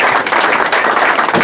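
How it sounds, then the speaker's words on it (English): An audience breaks into sustained applause for a volunteer named Rosario at a magic show at the Magic Castle, the dense clapping loud and steady throughout with a faint crowd murmur beneath it. "Give Rosario a round of applause."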